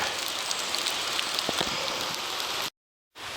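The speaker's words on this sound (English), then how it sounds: "20 after 6, and it's raining" Steady early-morning rain patters down on the Tuscarora Trail between Maryland and Virginia, a continuous dense hiss with scattered drops, briefly cutting out near the end.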